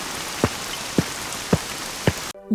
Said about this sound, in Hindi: देखो बारिश कितनी तेज हो रही है